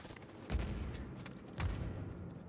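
Gunfire and explosion sounds in the video game Uncharted 4, including a grenade blast, heard as two fairly faint low booms with crackling shots scattered around them.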